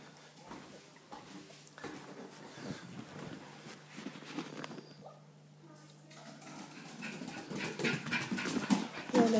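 A dog pants and whimpers close by indoors with soft breathy huffs and small whines. Scattered movement noises come through along with it, and the sounds grow louder and busier toward the end.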